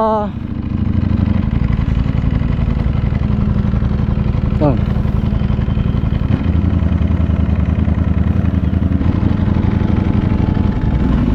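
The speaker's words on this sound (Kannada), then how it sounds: "ನಿಂತಾಗ ಸೈಲೆಂಟಾಗಿರಬೇಕು, ಸದ್ದು ಮಾಡುವಾಗ ಫುಲ್ ಸದ್ದು ಮಾಡಬೇಕು. ಹಂಗೆ ನಮ್ಮ ಗಾಡಿ." A superbike engine runs loud and close on a highway, a steady, throbbing mid-pitched drone with a quick rev near the start and another midway, while someone talks over it.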